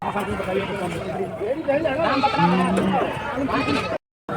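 Goats bleating at a busy goat market in Garhwa, Jharkhand, a few short calls breaking through dense crowd chatter and talk nearby.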